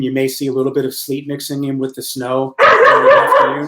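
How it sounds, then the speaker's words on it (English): A dog barks and yips a few times behind a person talking steadily, with a louder burst of barking near the end. "Sorry about my dog."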